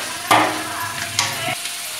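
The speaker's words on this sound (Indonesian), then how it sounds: "Pokoknya tumis pada dia sampai harum." Squid being stir-fried in a hot pan for Manado-style rica rica sizzles steadily, broken by a few sharp scraping stirs of the spatula, close and fairly loud with no talking.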